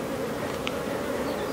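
Honey bees buzz at a hive during a beekeeping check of young bees and their queen, forming a dense, steady drone that stays close and constant throughout, with no talking.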